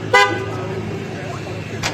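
Rajab Butt's car pulls away from a gate at the Islamabad High Court, a low vehicle rumble with two short horn toots, one near the start and one near the end.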